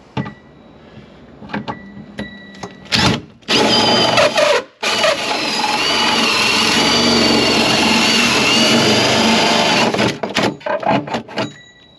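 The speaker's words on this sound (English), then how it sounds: "now I've got to drill the 54mm hole" A loud, steady power drill cuts a 54mm hole while fitting a water tank to a Land Rover Defender, running for several seconds after a few short bursts, its high whine holding constant before stopping and giving way to clatter.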